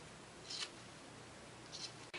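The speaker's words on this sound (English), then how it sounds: "just gonna cut those corners also" Scissors snip the corners of fabric in two faint, brief cuts about a second apart, followed by a soft click in an otherwise quiet room.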